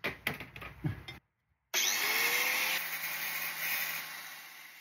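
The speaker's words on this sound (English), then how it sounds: "I spent some time tickling the closest screw to me with the angle grinder" An angle grinder cuts a screw on a Porsche wing mirror in a tight space, some scraping and handling noises, a brief pause, then a loud, steady whine that slowly fades over the last seconds.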